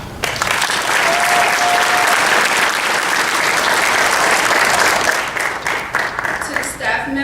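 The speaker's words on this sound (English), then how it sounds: "Let's give ourselves a applause." Graduation audience breaking into sustained, loud applause that fills the hall, holding steady for about five seconds before thinning into scattered claps.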